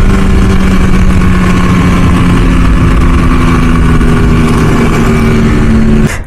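A Yamaha RX100 motorcycle under restoration runs loud and close with a steady, buzzing engine note for about six seconds, then cuts off abruptly.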